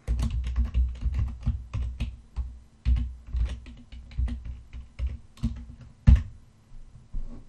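Lua code being typed on a computer keyboard in the Ultra Engine editor: a close, steady run of quick plastic key clicks with short pauses and a few heavier keystrokes, no voices.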